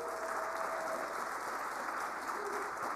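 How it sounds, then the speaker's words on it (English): Steady applause from a seated audience at a Democratic Party candidate forum and vacancy committee meeting in Denver, an even, continuous patter of clapping held at a moderate, fairly distant level throughout. "if you can clap again for, please, Chair Reyes for his incredible dedication to Denver, to this party."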